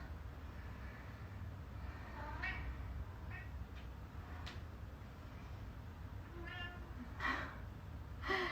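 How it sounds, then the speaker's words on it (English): A cat meows to be let in, giving several short plaintive calls scattered over a few seconds that sound fairly near against a quiet indoor room. "One of my other cats wants to come in"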